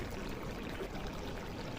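Fried chapila fish go into a simmering, spicy curry with eggplant and potato, making a soft, continuous bubbling and sizzling wash that stays faint and steady throughout, with no voices.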